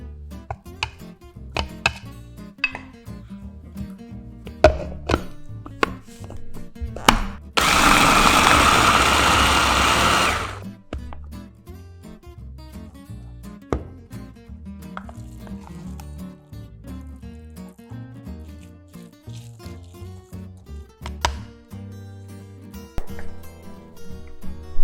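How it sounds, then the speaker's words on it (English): A blender runs in one loud, steady burst of about three seconds, whirring through anchovies, boiled potato and carrot for homemade cat food, with clinks and light kitchen knocks before and after in an otherwise quiet kitchen. "Put the anchovies in the blender. Add 80 grams of boiled potato and half carrot and blend all of them."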